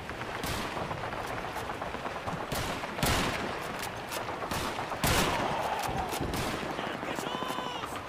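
Dense, rapid gunfire in Call of Duty 2, with rifle and machine-gun bursts cracking almost without pause, a few louder nearby shots standing out and occasional faint voices in the mix.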